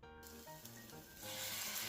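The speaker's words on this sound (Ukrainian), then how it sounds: "Формуємо деруни ложкою, набираємо тіста і на сковороду" Spoonfuls of pumpkin potato pancake batter sizzle in a hot frying pan, a steady close crackle that swells louder toward the end, with no voices over it.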